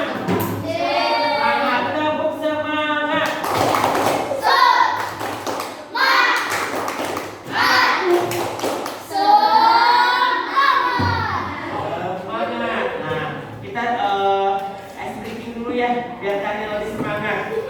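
Schoolchildren in a classroom do a rhythmic spirit clap, sharp bursts of hand claps in patterned groups alternating with chanted voices, loud and close, with a teacher's voice between the clapping runs.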